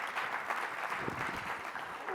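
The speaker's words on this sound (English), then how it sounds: "we can clap for that." Audience at a mayors' winter meeting plenary session clapping in a short, even burst, a soft crowd of hands with faint voices underneath.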